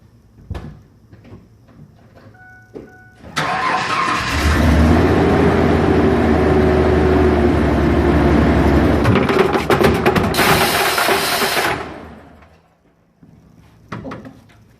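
A Ford Ranger with a swapped LQ4 6.0 V8 revs hard against the e-brake, a loud sustained engine roar building up and holding for several seconds before dropping off, with a sharp metallic clatter near the end.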